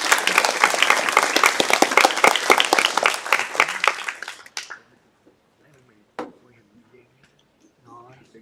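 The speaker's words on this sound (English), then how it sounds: "let's give our PMs a round of applause" An audience at a student project presentation night claps loudly in a round of applause that thins out and stops after about four and a half seconds, followed by quiet with a few faint scattered sounds.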